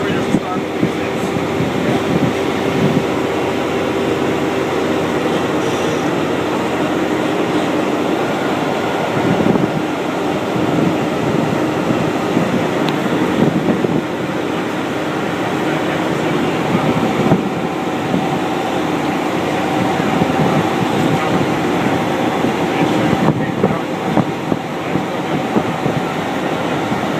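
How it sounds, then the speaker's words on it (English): A backup generator at a water tower runs with a loud, steady mechanical roar that fills the whole stretch without letting up, while voices talk faintly underneath. "The generator will start with this."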